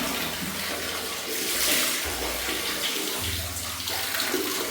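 Water splashing and running steadily while a small boy is bathed standing in place, continuous close splashing with faucet-like flow throughout.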